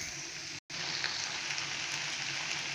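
Potatoes stirred as they fry in a pan, a steady soft sizzle with gentle scraping, interrupted by a brief silent gap, close and fairly quiet.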